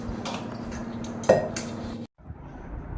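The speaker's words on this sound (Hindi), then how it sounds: "मैंने बर्तन यहाँ पे धुला लेती हूँ" Metal dishes and cutlery clank and scrape in a home kitchen sink as they are washed, with one sharper clink midway before the sounds cut out.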